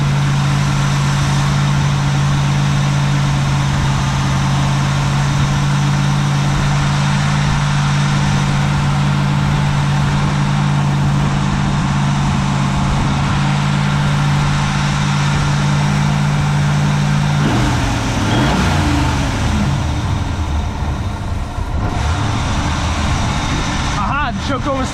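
An old car engine with a freshly adjusted carburetor and electric choke idles with a steady, loud hum; near the end the engine note shifts and wavers as the idle changes.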